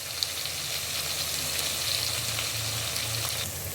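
Onions sizzle steadily as they hit a hot pan for a Nigerian vegetable soup, an even crackling hiss with a faint stir partway through, close and moderately quiet.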